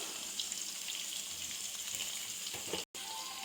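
Cumin and mustard seeds fry in a pan with a steady, close crackling sizzle that runs throughout and breaks off for a split second near the end.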